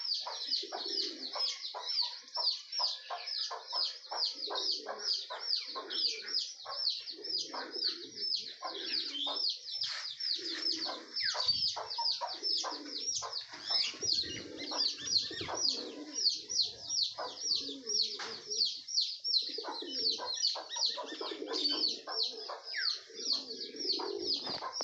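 A dense crowd of birds calls continuously, with chickens clucking and pigeons or doves cooing amid high chattering. The sound is layered and steady throughout, with no pause.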